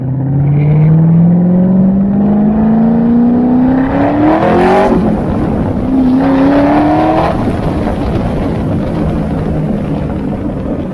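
A C6.5 Corvette fitted with a rear spoiler pulls away, its engine note climbing loudly through a rev, dropping, then rising again before settling into a steady rumbling drone.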